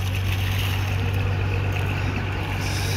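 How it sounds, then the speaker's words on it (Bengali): A large wooden fishing trawler at Dublar Char in the Sundarbans runs its engine as a steady, loud, droning hum with a deep low tone, constant throughout. "ফিশিং ট্রলার সুন্দরবনের।"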